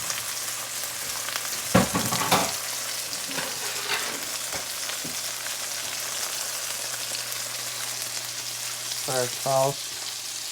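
Salmon sears in a frying pan with a steady, moderate sizzle, broken by a few louder scraping and flipping clatters, and brief speech near the end.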